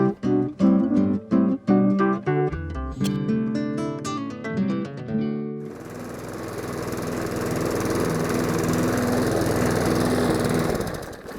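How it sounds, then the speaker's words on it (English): A lawn mower cuts long late-July garden grass, its engine note rising to a steady, loud running drone after a brief start, with no voices. "I thought we'd start this week with a little bit of mowing"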